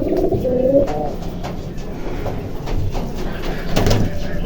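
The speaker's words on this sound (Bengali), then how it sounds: "এখানে দেখতে পাচ্ছেন আরও একটি কবুতর এই কবুতরটি ডিম নিয়ে বসে আছে" Domestic pigeons cooing in a pigeon farm in Bangladesh, with low, repeated rolling coos close by over a steady background hum.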